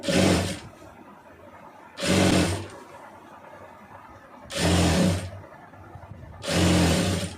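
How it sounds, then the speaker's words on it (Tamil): A sewing machine stitching a round neckline on fabric runs in four short, loud bursts of steady whirring, each about half a second to a second long, with quiet pauses between them. "இப்போ அதில் அப்படியே தையல் போட்டுருங்க"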